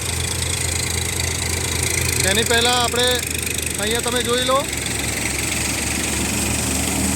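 A Farmtrac 42 Champion tractor drives a thresher, a steady loud droning engine with mechanical rattle, while someone talks over it in the middle.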